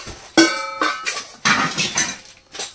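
Tin-lined brass sauce pans in a handicraft shop clink and ring together in several separate metallic strikes, each leaving a short bright ringing tail, close up, with no talk.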